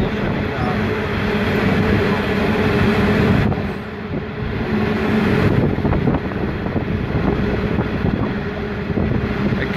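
A train rolls slowly through Metford station, a steady rumbling passage with wind buffeting the microphone, loud and close throughout.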